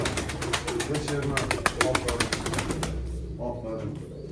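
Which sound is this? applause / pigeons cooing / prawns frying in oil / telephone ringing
pigeons cooing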